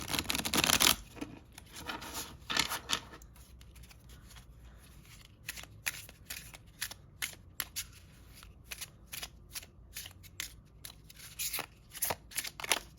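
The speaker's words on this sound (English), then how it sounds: "So I'm going to just shuffle again, and I'll draw a card" Mini tarot cards being shuffled up close, a burst of riffling at the start followed by repeated crisp flicks and snaps of cards, with no talking.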